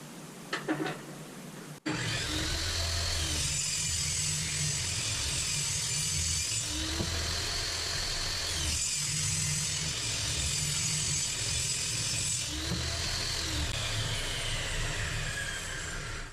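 A saw rips through wood to cut half-inch leg pieces for a squirrel feeder: a loud, steady whine of the blade biting into the board after a brief quiet start, running continuously to the end.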